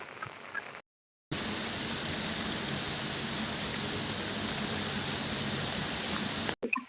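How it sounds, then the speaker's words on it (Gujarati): Heavy rain pours down on a village near Somnath as a loud, dense, continuous hiss. It breaks off for a moment near the start, then returns at full strength and holds steady to the end. "તો તમે જોઈ શકો છો હાલત કે અમારા ગામની અંદર કેવો વરસાદ છે."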